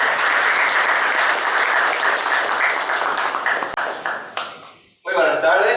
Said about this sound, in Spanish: Fuerte el aplauso para él